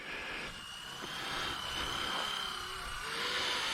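A radio-controlled helicopter's rotor and motor hum steadily at close range as it comes down to land, the whine rising slightly toward the end with no talking over it.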